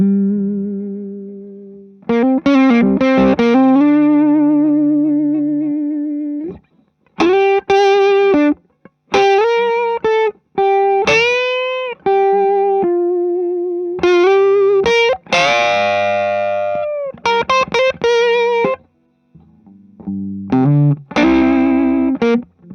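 Electric guitar played through an always-on overdrive pedal into an amp, with sustained distorted chords and single notes in phrases separated by short pauses, loud and close with no talking.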